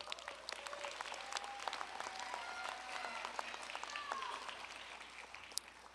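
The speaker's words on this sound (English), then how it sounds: "give each other a round of applause" Graduates at a College of Pharmacy commencement applaud one another, a faint, distant wash of many hands clapping steadily with a few murmured voices.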